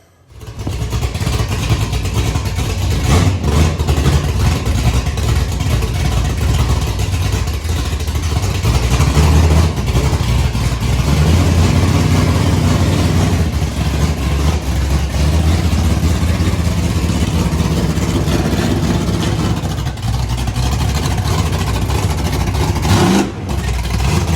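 A 355 stroker V8 engine roars steadily at high revs for the full length, loud and close, with brief dips as the throttle eases near the end.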